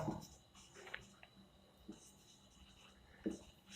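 Quiet scratching of writing during a maths lesson on permutations, a few short faint strokes with soft background hiss and no speech over them.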